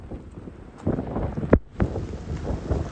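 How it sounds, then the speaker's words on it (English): Gusty wind buffets the microphone, rumbling and rising in bursts over a few seconds. "So yeah, you can hear the wind coming there."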